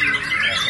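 Several songbirds chirp and warble together at a bird song contest in Lampung Timur, a dense, continuous high-pitched chorus close by with steady loudness and faint background noise.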